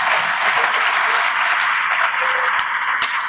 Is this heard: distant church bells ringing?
no